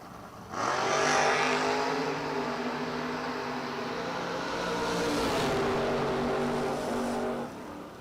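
On a drag strip, a Nova and a Mopar launch off the line with a sudden loud engine roar, revs climbing through gear changes before the sound fades away near the end.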